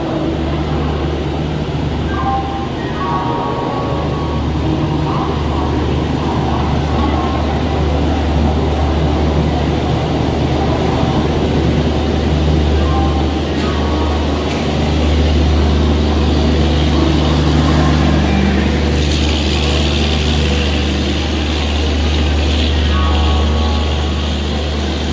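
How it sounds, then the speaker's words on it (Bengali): The Kumbha Express rolling into a station platform, heard as a loud continuous low rumble of the train's approach with faint metallic squeals and clatter over steady station noise. "অবশেষে ট্রেন আমাদের প্ল্যাটফর্মে ঢোকা শুরু করলো।"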